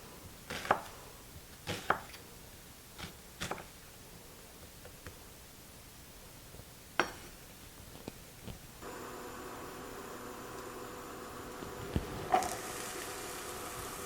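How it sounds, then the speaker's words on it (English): A knife chops an onion on a cutting board in a few sharp, separate strikes spread over the clip, close and clear against quiet background noise, with a steady hiss coming in near the end. "I'm going to finish chopping up this onion"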